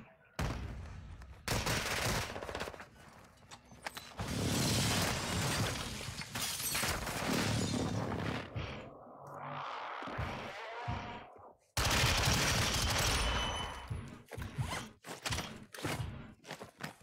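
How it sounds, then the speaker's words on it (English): Precision airstrike explosions and gunfire in the Warzone 2 video game, long loud sustained rumbling blasts with brief gaps between them, and sharp shots toward the end. "Enemy precision airstrike. Find cover."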